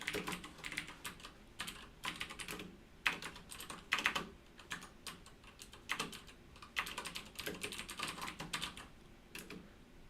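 Someone types code on a computer keyboard, with quick bursts of soft, close key clicks separated by short pauses and no talk.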